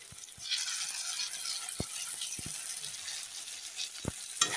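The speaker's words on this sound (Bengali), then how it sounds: "দিয়ে ভালো করে ভেজে নিচ্ছি।" A steady, close sizzle of tomato and dried red chili paste frying in hot oil, with occasional soft clicks and taps of stirring.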